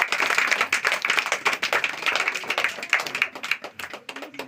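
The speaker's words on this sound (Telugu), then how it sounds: "అందరూ సపోర్ట్ కొట్టవలసిందిగా కోరుతున్నాను" Audience clapping at a community felicitation ceremony honoring a student, a dense, steady patter of many hands that thins toward the end, with no talk over it.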